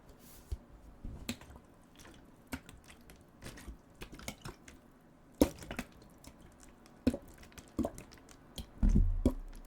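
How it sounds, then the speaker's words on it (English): Water sloshes and drips in a nearly empty plastic bottle close to a microphone, giving quiet, scattered squishy splashes and gurgles with pauses between them. "I have a water bottle here that I'm going to use for some sounds"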